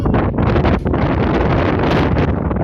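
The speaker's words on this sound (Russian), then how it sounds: "Смотри какой ветер." Strong wind roars steadily into the microphone at the Yeysk estuary beach, a loud continuous rush with gusty buffeting throughout.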